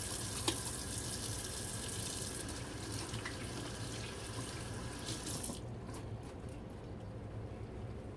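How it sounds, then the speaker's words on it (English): A kitchen tap runs steadily while hands are washed under it, with a continuous faint stream of water that drops off near the end. "gotta wash my hands again. I'm always washing my hands in the kitchen"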